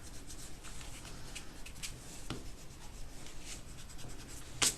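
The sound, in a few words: eraser rubbing out pencil marks on a card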